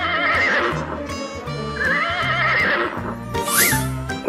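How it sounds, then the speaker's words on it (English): A horse neighs loudly and up close, two long whinnies with a shorter cry near the end, over steady low clip-clop hoofbeats. "H for horse."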